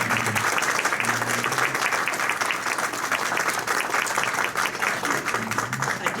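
A room of Rotary Club meeting attendees gives steady applause to Interact Club high school members on their Career Day, dense continuous clapping throughout with a faint voice at the start and end.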